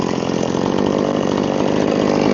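A chainsaw cuts logs for firewood with a loud, steady, unbroken engine drone held close throughout.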